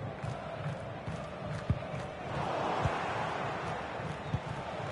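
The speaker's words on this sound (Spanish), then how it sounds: "¡Aplausos, señores!" A large stadium crowd in a football video game roars and swells in a broad, continuous wash of noise, rising noticeably midway, with a few low thumps underneath.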